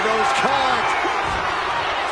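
Wrestler hitting a DDT onto the mat at a live wrestling event, a sharp slam under loud commentary and a roaring crowd.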